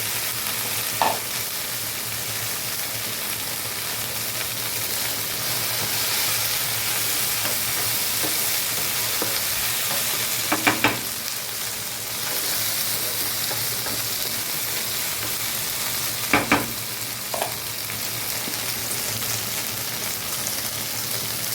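Okra fries with onion and chili in an oiled pan, giving a continuous sizzle as it is stirred, with occasional sharp clinks and scrapes of the utensil against the pan.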